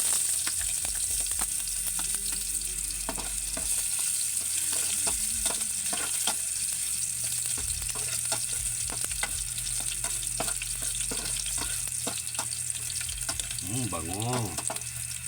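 Ginger frying in a pan for monggo with chicken feet, a steady loud sizzle running throughout with scattered stirring scrapes and a brief clink near the end.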